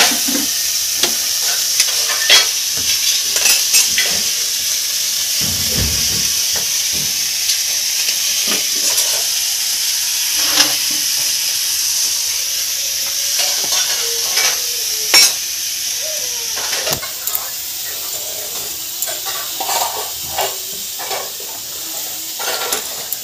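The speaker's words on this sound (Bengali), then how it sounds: "তো চলো আলুটা ভেজে নিই" Potatoes fry in a kadai, with a steady bright sizzle and hiss that swells and fades as they are stirred, scraped and occasionally knocked against the pan, no speech.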